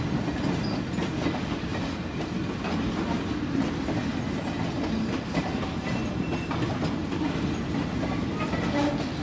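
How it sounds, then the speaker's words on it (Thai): Alstom 4121 locomotive and train in the Bangkok station yard, a steady loud rumble with rhythmic clickety-clack of wheels and faint metallic squeals throughout, no voices. "นี่คือการเตรียมขบวนในย่านสถานีกรุงเทพในแต่ละวัน"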